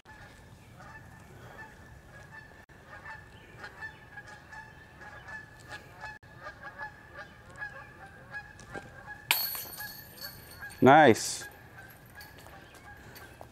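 Geese on a disc golf course give a sudden loud burst of honking near the end, preceded by quieter outdoor ambience with faint chatter, and a person says a word just before the honks.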